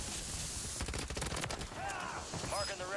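Rapid gunfire bursts in Warzone Resurgence crackle loudly and densely, with a voice speaking briefly over the shooting.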